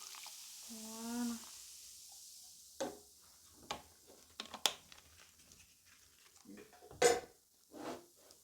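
Eggless waffle batter mixed in a bowl, with scattered clinks and scrapes of a utensil against the bowl, irregular and close, after a brief rising tonal sound at the start.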